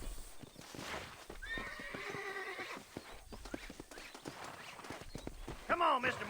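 A horse in the video game Red Dead Redemption whinnies loudly over steady hoofbeats, with a second shrill neigh near the end and a voice murmuring faintly underneath.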